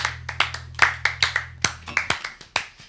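Scattered hand claps from a small audience at a comedy jam, irregular and fairly close, with one voice speaking briefly in between.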